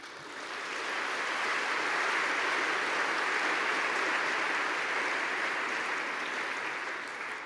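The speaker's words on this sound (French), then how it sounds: "Je vous demande vraiment de les applaudir." An audience claps steadily through a launch ceremony for the 2015 International Year of Light in France, a dense, sustained wash of applause that swells at the start, holds evenly, and tapers slightly at the end, with no voices.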